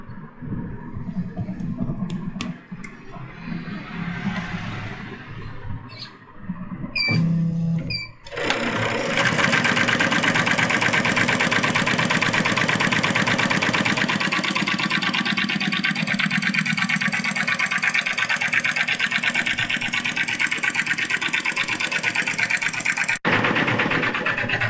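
A computer embroidery machine stitches a back design onto a blouse with a loud, steady mechanical whir that runs unbroken after a few quieter handling sounds at the start.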